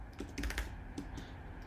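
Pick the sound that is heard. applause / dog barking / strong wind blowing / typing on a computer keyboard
typing on a computer keyboard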